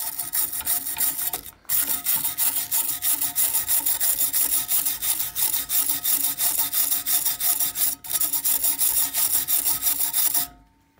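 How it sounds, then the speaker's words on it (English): A regular wire brush scrubs steadily over a rust-covered antique spoon, a loud, continuous rasping scratch with two brief pauses before stopping near the end; no talking. "So I just have a regular wire brush here."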